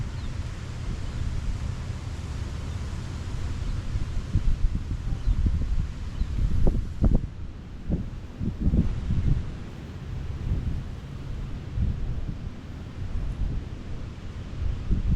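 Wind gusting across a fishing boat as a front approaches, a loud steady rumble and buffeting on the microphone, with a few brief knocks partway through and no talk.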